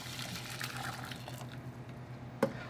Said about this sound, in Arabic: هون انا عندي كباية ونص مي مغلية رح سقطها فوق الرز